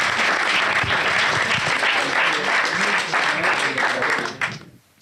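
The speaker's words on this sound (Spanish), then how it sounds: "Un aplauso, es muy bueno." Loud, dense audience applause fills the room steadily for over four seconds, then quickly thins out and fades away near the end.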